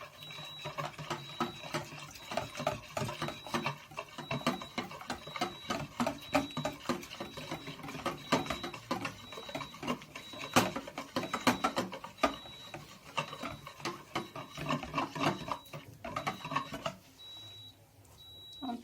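Pancake batter of flour, sugar and milk stirred steadily in a bowl for sweet crunchy cobweb pancakes, a busy run of quick clinks and scrapes with a faint steady tone behind, then dying away near the end.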